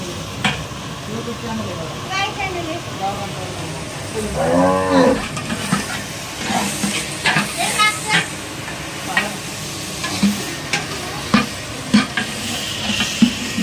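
Peas, carrots, cauliflower and rice for pulao being stirred and mixed in a pot, bringing repeated scraping and clattering strokes over a faint sizzle, while a cow moos in the background.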